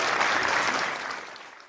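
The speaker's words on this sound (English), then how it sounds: "I was really moved when I heard that applause" A clubhouse audience claps in a dense wave of applause that starts full and gradually fades out over a couple of seconds.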